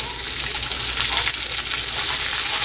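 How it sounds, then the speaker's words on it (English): Chopped onion frying in hot oil in a pan for chili chicken, a steady, dense sizzle and crackle with faint stirring scrapes, close and continuous throughout with no voices. "Heat the oil in the pan. Now I am going to add our chopped onion."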